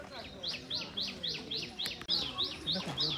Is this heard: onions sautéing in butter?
no